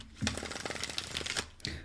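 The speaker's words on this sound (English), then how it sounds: "Let's do 2 more shuffles on that." Tarot cards being shuffled by hand, a quick run of crisp riffling flicks and soft slaps up close, with no talk.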